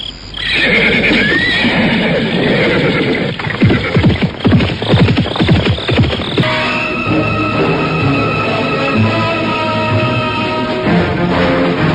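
Several horses neigh and whinny loudly as riders mount up, with hooves shuffling and clip-clopping in a busy cluster of calls, followed by a lingering musical drone with no talking.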